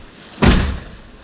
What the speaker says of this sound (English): because if I close the door